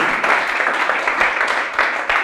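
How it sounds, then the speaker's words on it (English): A classroom of students claps for a classmate, a dense, steady burst of many hands that stays loud and even throughout the short stretch with no talking over it. "Clap for him. Clap for him."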